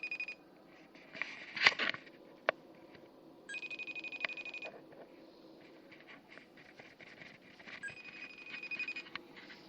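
A telephone ringtone chirps in short, repeated bursts during a phone call, mixed with clicks and handling noises at moderate volume, with no talk over it.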